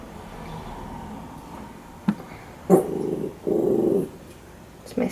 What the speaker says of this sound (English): It's my studio dog guarding the house. You hear him in the background.